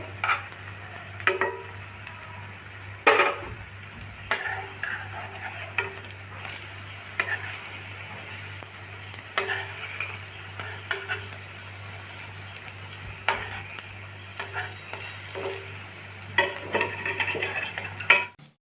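Pitha fries in a pan with a steady sizzling hiss, punctuated by gentle, irregular scrapes and light clinks of a utensil moving it around over a long, even stretch.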